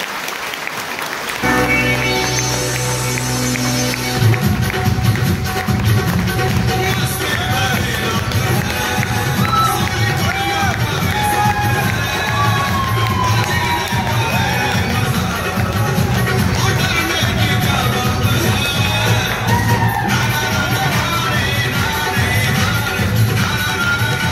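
Audience at an AWPL network training meeting in Mahoba bursts into loud, sustained clapping that fills the hall for over twenty seconds, a dense steady roar of hands with crowd murmur beneath.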